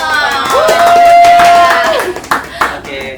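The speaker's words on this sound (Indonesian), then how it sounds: "Tepuk tangannya dong" A small studio audience claps to welcome a guest on an Indonesian talk show. Scattered handclaps and a brief whoop come through over and after a voice.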